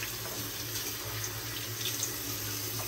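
Warm water runs steadily from a tap during a shave with sensitive shave cream, a constant moderate hiss and splash with no voices.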